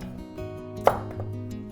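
A kitchen knife cuts vegetables diagonally on a board while noodles are being prepared. One sharp, close knock stands out over a steady low background hum.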